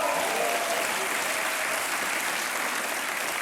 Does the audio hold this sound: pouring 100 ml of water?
no